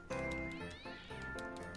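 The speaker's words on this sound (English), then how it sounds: "I hear a cat. Why do I hear a cat?" A cat meows in the video game GTA 5 with a snow mod, a drawn-out, wavering cry followed by a second shorter meow, fairly clear and close amid faint game background.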